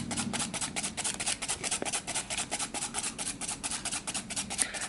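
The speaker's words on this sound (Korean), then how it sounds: "살살살살 지브라 화일로 제껴서 표면 화일링 작업을 하겠습니다" A zebra nail file rasps back and forth over a gel sculpture nail surface during a nail art exam piece, giving a steady, close, quiet rhythm of short repeated strokes with no talk.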